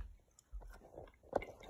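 Quiet close-up chewing and biting of a double cheeseburger and fries, a few soft crunchy bites over a couple of seconds.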